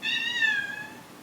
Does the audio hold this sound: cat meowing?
yes